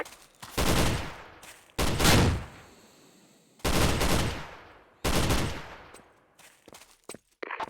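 Gunfire in a video game arrives as four long, loud automatic bursts separated by short pauses, each with a heavy decaying tail, followed by a few quick scattered shots at the end, with no talking.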